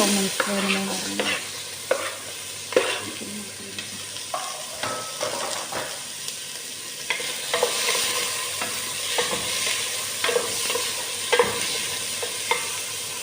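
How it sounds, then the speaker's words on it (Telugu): Onions frying in a pan for a mutton dish, with a continuous crackling sizzle and repeated scraping and clacking strokes of a stirring spoon, close and fairly loud throughout. "ఎర్రగడ్డలు వేగుతుంటాయండి"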